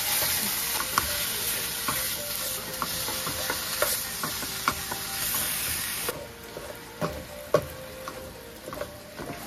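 Ground meat fries in a preheated, lightly oiled pan, sizzling steadily up close. A spatula mashes and scrapes it with repeated sharp taps and knocks.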